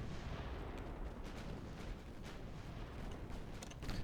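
Warship gunfire in the naval game Ultimate Admiral: Dreadnoughts, a low, muffled, continuous rumble of distant heavy guns with faint scattered booms, quiet throughout.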